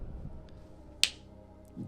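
A single sharp hand clap, close and crisp, stands out alone against a quiet room background, with faint low rumble around it.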